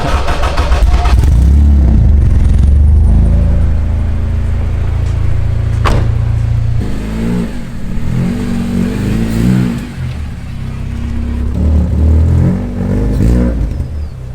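K24-swapped Honda Civic engine revving loudly up close, then settling into a lower rumble with shifting throttle as the car is driven and moved into a parking spot, no voices.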